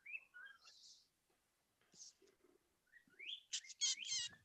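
A pet bird whistles and chirps in short bright phrases from the background of a room, several separate bursts with a louder flurry near the end, with soft speech-like sounds mixed in.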